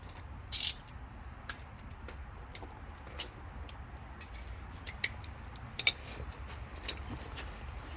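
Ratchet with a 1/2 inch 6-point socket working on the oil drain plug of a 2021 Jeep Wrangler JLU EcoDiesel, with a few sharp metallic clicks and clacks over steady low garage rumble.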